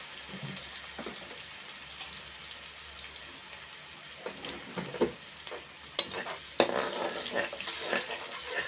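Chopped onion dropped into a pan and frying, a soft steady sizzle broken by clattering knocks of the utensil against the pan, with louder hissing near the end.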